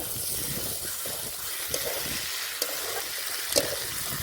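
Jackfruit and prawn masala cooking with whisked sour curd in a pan, a steady close hiss and sizzle with a few faint scraping clicks, no talking.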